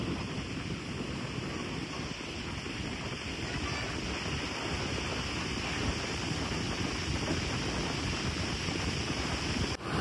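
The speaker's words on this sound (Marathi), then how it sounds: "फेसाळलेल्या लाटा." Foamy sea waves roll onto Guhagar beach in a constant loud wash of surf, mixed with heavy wind buffeting on the microphone, steady from start to end without distinct talk.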